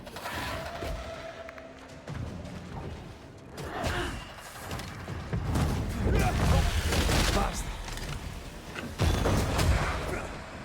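A corpse enemy fires its gun in Banishers: Ghosts of New Eden, sounding as a series of heavy thumping shots and bursts over a busy game soundscape, with a player talking over parts of it.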